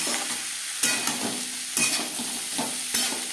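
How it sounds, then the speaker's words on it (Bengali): Bean seeds frying with salt and turmeric sizzle steadily in a pan, broken by three firm stirring scrapes at a slow, regular rhythm, close by with no voices. "লবণ হলুদ দানার সাথে বেশ ভালো করে মিক্স করে দেব"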